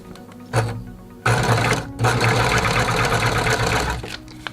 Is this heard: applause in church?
no